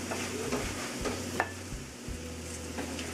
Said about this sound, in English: Quickly stir it.